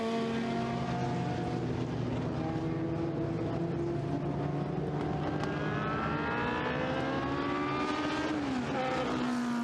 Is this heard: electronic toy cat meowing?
no